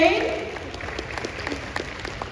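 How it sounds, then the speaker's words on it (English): An audience applauds after an angklung performance at an international university seminar; scattered, fairly thin claps ring out at moderate distance after a brief voice at the start. "Maybe, ladies and gentlemen, we will give a round of applause once again."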